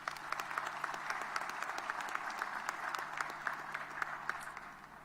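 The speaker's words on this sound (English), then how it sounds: "give an applause" A crowd applauds at the 2021 South African municipal elections results announcement, steady dense clapping from a large audience held at moderate level for several seconds without talk.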